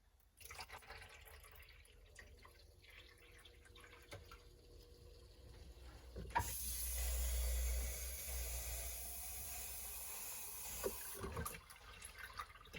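Water pours steadily for several seconds into an AeroGarden indoor garden reservoir, a broad rushing sound that starts suddenly and stops, with faint clatter before and after.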